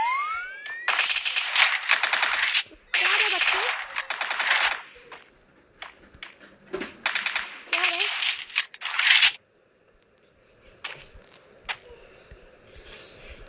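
P90 submachine guns fire in the video game Free Fire in several rapid bursts of shots, loud and close, with short pauses between them and a few scattered single clicks and shots afterward.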